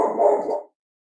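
A single dog bark, loud and close, lasting well under a second before dead silence, heard alone with no voices.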